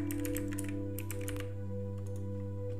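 Typing on a computer keyboard to name a new desktop folder on a Windows PC, a quick run of close, light key clicks in bursts with a steady background hum and no talking.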